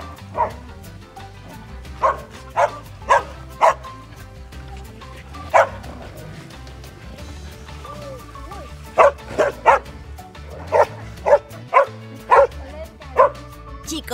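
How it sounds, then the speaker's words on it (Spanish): Several dogs bark repeatedly in sharp, loud bursts, some spaced apart and some in quick runs, over a steady background rumble with no talk. "si vosotros sabéis cómo se llama esta maravilla de raza de perro"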